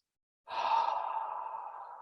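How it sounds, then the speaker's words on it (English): A single long, soft exhalation during a qigong lung exercise starts after a brief silence and trails on steadily, breathy and close to the ear. "Bring the body upright, breathing out."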